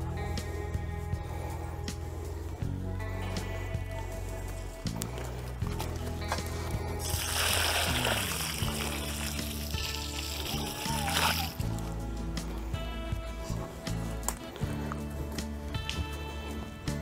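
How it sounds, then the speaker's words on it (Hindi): People talk, then water pours and splashes onto soil around a newly planted mango sapling in a garden in a steady rushing stream lasting a few seconds before the talk resumes. "पानी डाल देते हैं इस पर"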